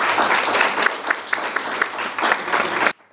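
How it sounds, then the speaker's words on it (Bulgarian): Audience applause at a sports awards ceremony, a dense, steady burst of clapping from a crowd that holds for about three seconds and then cuts off abruptly. "Аплодисменти още веднъж."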